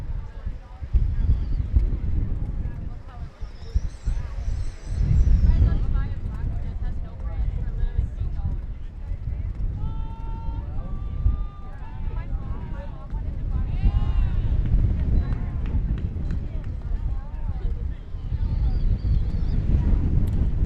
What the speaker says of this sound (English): very windy out there. You might be able to hear that if you're watching the broadcast.